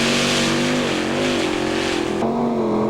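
Tractor-pulling machine Seaside Affair, driven by six Ford V8 engines of the kind found in big American cars, roars loud and steady at a European tractor pulling event, its dense engine drone holding throughout with a slight shift in pitch near the end.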